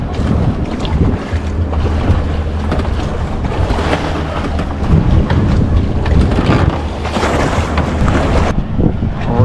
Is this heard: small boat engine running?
yes